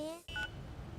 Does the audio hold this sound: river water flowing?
no